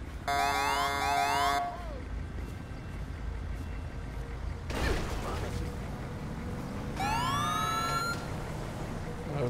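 Ambulance siren in the video game Grand Theft Auto V, loud rising electronic wails in two bursts at the start and near the end, with traffic noise in between.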